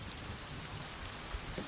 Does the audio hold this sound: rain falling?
yes